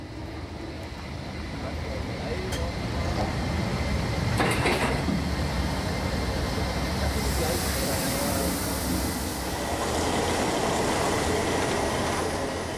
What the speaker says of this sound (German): Gleich drei Krupp-E-Loks rollen über die Gleise